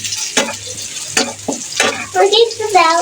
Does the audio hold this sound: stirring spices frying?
yes